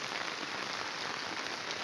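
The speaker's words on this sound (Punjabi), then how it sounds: "ਬਹੁਤ ਪਾਣੀਆਂ ਬੁਰਾ ਹਾਲ ਹੈ ਬਹੁਤ ਮੀਂਹ ਪੈ ਰਿਹਾ" Heavy rain pours over flooded village roads and drains, a dense, constant hiss of water hitting surfaces with no breaks, close and steady.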